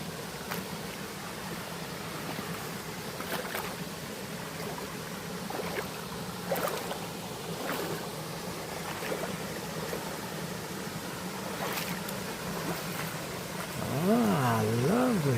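A big waterfall at Mil Cascadas near Taxco, Guerrero, Mexico, gives off a steady, broadband rushing roar that fills the whole scene, with scattered small knocks and a wavering tone near the end.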